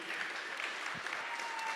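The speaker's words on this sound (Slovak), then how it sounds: "Dajte mu potlesk tomu chalanovi." An audience at a live hackathon finale claps steadily at moderate volume, a dense spread of applause without any break.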